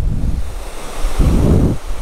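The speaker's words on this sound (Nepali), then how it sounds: "गाइस हामी चाहिँ यहाँ अब यस्तो दामी झर्ना देखिसकेको छौँ" A waterfall along the Manang route in Nepal fills the air with a close, steady rushing roar that swells in wind-like surges, with no voices.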